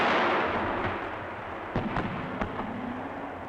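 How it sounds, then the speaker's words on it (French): Distant artillery firing 155 and 105 calibre illuminating shells, heard as a few sharp, booming reports spaced unevenly over a steady rushing background, with no one speaking. "Le GIAT réalise des obus éclairants dans les calibres 155 et 105."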